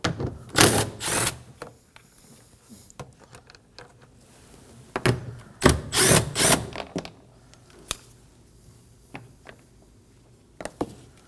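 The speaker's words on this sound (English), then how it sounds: "Using a 10mm socket, go ahead and remove them." Ratcheting hand tool work with a 10mm socket loosening and removing bolts under a rear door panel of a 2017-2024 Nissan Armada, heard as short clustered bursts of clicking and whirring near the start and middle, then scattered faint clicks.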